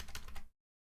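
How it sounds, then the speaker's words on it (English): A quick flurry of keystrokes on a Microsoft membrane computer keyboard, a few soft, muffled clacks packed into half a second before it cuts to silence. "I'm using this good old-fashioned default Microsoft membrane keyboard"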